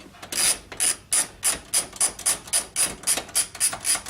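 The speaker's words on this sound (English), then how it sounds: "Now we're going to get a 5/8 deep socket wrench and attempt to remove" A 5/8 deep socket wrench ratchets on a radio nut in a 1967 Impala dashboard, giving about a dozen quick, evenly spaced clicking strokes, close and clear with no talking.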